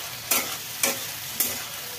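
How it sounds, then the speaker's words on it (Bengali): Potatoes and tomatoes sizzle steadily in a pan while a spatula scrapes through them three times at a regular pace, each stir a short, loud, close swish over the constant frying hiss. "এবারে আমি আলু আর টমেটোটাকে ভালো করে কিছুক্ষণ ধরে নেড়ে চেড়ে ভেজে নিচ্ছি"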